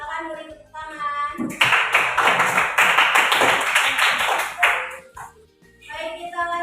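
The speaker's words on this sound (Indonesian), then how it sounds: "Silakan beri tepuk tangan." A classroom of students bursts into hand clapping for a presenting group, a dense burst of applause lasting a few seconds, with a teacher's voice speaking before and after.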